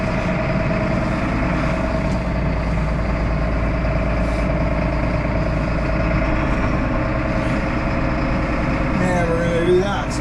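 A heavy diesel tractor engine idles steadily and loudly up close, a constant low rumble with a faint clink near the end.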